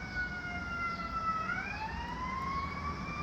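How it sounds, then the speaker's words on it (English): An ambulance siren wails as it passes on a city street, its rising and falling tone steady and moderately distant with no voices over it. "Let the ambulance go by."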